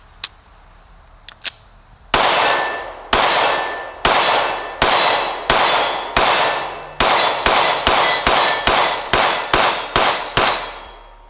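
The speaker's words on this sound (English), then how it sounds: "I was mainly shooting that steel target" Gunshots with a micro dot sight ring off a steel target, around fifteen sharp clanging cracks in a quick, uneven string, each followed by a short decaying ring, after a couple of faint clicks.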